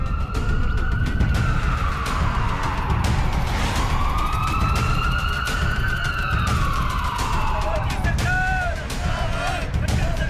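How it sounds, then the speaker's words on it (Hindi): An ambulance siren wails loudly as it passes through a farmers' protest, its tone rising and falling in long sweeps over a constant roar of crowd and traffic noise. "हालांकि किसानों के प्रदर्शन के दौरान एम्बुलेंस भी जाती दिखी।"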